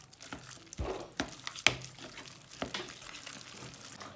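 Kids stirring cannelloni filling in a bowl, heard as a few soft scraping, wet clicks and knocks of a utensil against the bowl, close and fairly quiet, with no talking.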